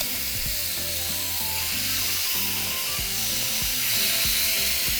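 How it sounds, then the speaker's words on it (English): Carne asada meat searing in a hot skillet, making a steady, loud broadband sizzle and hiss that continues throughout alongside a low, repeating rhythmic background pattern. "now we're going to begin to cook our meat."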